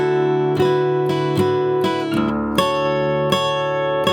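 A song's intro riff on guitar, played very slowly: ringing plucked notes and chords struck one at a time at a spaced, unhurried pace, close and clear with no talk.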